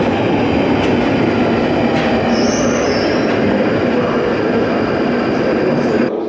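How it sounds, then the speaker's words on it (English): A London Underground tube train rumbles loudly through Tottenham Court Road station, with steady rolling wheel noise and a high metallic squeal rising briefly midway, close and continuous. "I've quickly just stopped off at Tottenham Court Road tube station to look for some Edoardo Palozzi murals, and just as I've got off the train"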